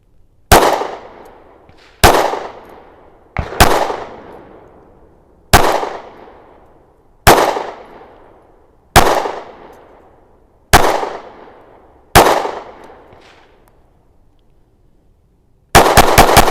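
A SIG Sauer P365 XMACRO 9mm pistol fires eight single shots at an even, deliberate pace, each a sharp loud crack with a short ringing decay, followed by a burst of noise at the end.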